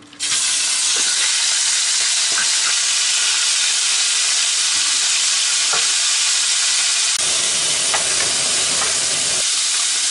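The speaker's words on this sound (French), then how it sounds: "Mon huile elle commence légèrement à fumer, c'est assez chaud pour que je mette ma viande d'un coup." Beef pieces fry in smoking-hot oil in a sauté pan, a loud, dense, continuous sizzle and hiss with occasional pops and stirring clicks and no talk.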